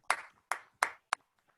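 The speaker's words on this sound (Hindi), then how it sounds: "एक जोरदार ताली हो जाए" A few sharp, separate hand claps ring out in a quick uneven run at an orientation training event. They are fairly close and stand alone, with no voices, then trail into quiet.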